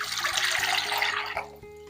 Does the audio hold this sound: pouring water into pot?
yes